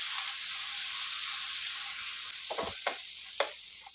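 Cumin, carom, cardamom, chilli powder and dried coriander hiss steadily in hot oil, with a few scrapes and clinks of stirring near the end.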